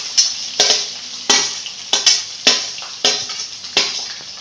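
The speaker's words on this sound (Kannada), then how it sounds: "ಇದಕ್ಕೆ ಈರುಳ್ಳಿ ಹಾಕೊತಾ ಇದ್ದೀನಿ ಫ್ರೆಂಡ್ಸ್." Onions fry in hot oil, heard as a string of loud close stirring scrapes about every half second against a softer sizzle between strokes.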